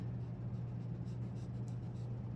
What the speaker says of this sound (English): now I'm going to erase lines I don't need.